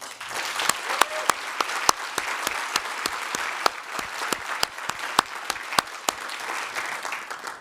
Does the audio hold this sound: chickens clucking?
no